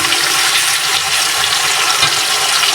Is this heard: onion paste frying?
yes